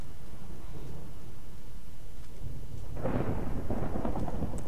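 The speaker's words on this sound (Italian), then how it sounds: "E intanto fanno i tuoni." Thunder rolls in a storm, a low rumbling wash that swells into a louder, broader crack and roar in the second half, steady and close with no voices.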